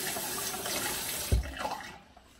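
Tap water runs at a bathroom sink while makeup is rinsed off the face, a steady close splashing with one brief thump before the flow fades.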